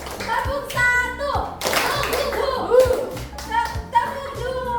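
Schoolchildren clap in a rhythmic chant during a classroom lesson on making ice cream, with crisp hand claps and voices calling out together at close range.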